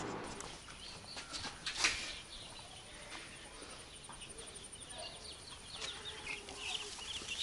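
Hens clucking at a village chicken farm, scattered soft clucks and short calls at moderate distance over faint outdoor ambience and insect hum, with a sharper squawk early on.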